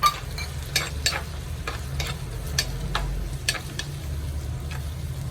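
Ginger and five green chillies sauté in hot oil for a sardine curry, a low steady sizzle broken by repeated sharp scrapes and clicks of a spoon stirring the pan up close, with no voices.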